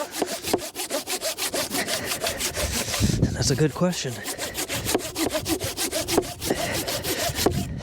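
A hand saw rasps back and forth through wood framing for a post frame barn in quick, even strokes, close by, with someone speaking briefly partway through.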